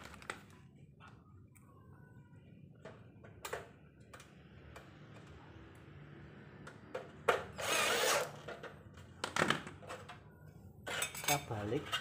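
A power drill drives bolts into an aluminium zig-zag glass ventilation frame, giving a few short, loud whirring bursts near the end, alongside light metallic clinks and ticks in an otherwise quiet workshop.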